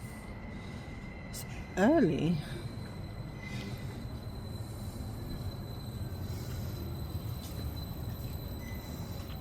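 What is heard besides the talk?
train arriving at station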